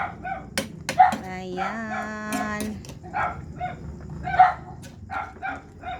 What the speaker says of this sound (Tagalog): Ang ingay ng aso namin dito mga ka-people.